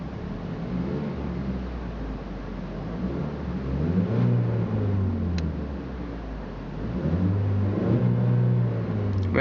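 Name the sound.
2012 Ford Focus Titanium engine revving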